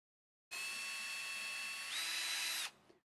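Drilling out holes in a UNIMOG model kit, a power drill whines loud and close for about two seconds, stepping up in pitch partway through before cutting off.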